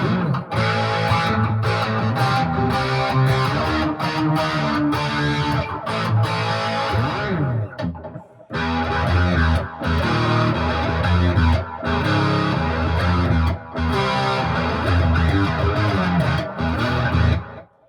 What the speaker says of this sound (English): Add a little bit more distortion.